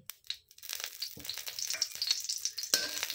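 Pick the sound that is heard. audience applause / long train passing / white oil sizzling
white oil sizzling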